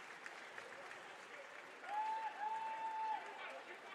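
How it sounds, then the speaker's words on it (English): Applause at a high school district swimming championship, a crowd clapping steadily in a large reverberant natatorium, swelling slightly midway with a whistle-like tone over the noise. "And the round of applause."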